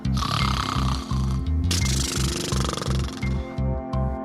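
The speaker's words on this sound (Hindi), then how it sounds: "पेड़ के पास से गुजरते हुए उसने खरगोश को देखा भी, जो आराम से खर्राटे मार रहा था" A rabbit snoring as a sound effect in a bedtime story, loud rhythmic low snores repeating about twice per second, close and steady with a breathy hiss over it.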